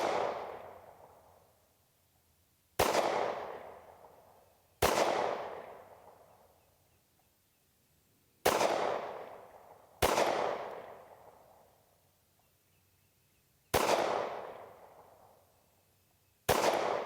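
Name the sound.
SAR USA K12 Sport pistol firing Midwest Ammo 115 grain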